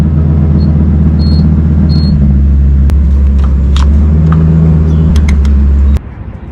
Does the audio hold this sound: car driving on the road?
yes